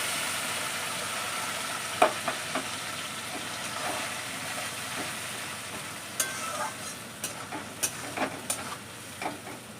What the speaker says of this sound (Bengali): এবার আমি পেস্ট করা এই টমেটো এগুলো দিয়ে দেব